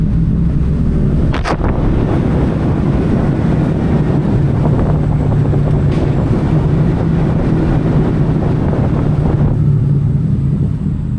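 A 260K-mile Chevrolet Silverado towing a trailer downshifts on a steep grade, its engine holding a steady low drone under constant wind rush, with a brief sharp knock early on.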